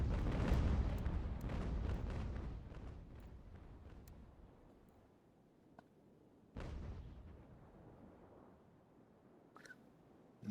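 Ship cannon fire in an American Revolution naval strategy game, a rolling volley of heavy booms that fades out, then a single loud blast with a decaying rumble and scattered faint cracks.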